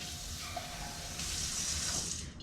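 Tap water runs steadily into a can, a continuous close splashing rush with no pauses.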